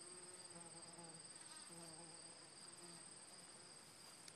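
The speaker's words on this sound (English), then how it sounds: "Senna also is attracting bees." Bees foraging on senna flowers in an eight-year-old prairie meadow, a soft continuous insect hum with faint overlapping buzzes rising and fading, heard from close by in quiet outdoor air.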